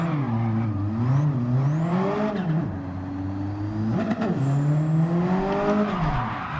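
In Gran Turismo 7, a car drifts through a transition with a clutch kick, its engine revving and falling in rising and dipping sweeps, tires squealing faintly, loud and continuous.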